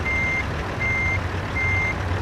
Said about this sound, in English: These Kenworths have nice sounding engines.